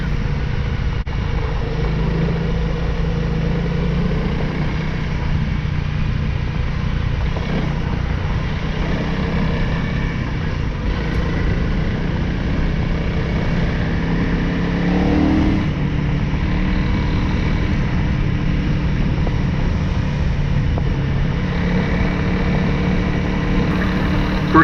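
A Honda CFR 300L dual sport motorcycle with ABS ridden during break-in miles, its engine drone steady and loud for the whole stretch with slight rises in revs and heavy wind rumble, no speech.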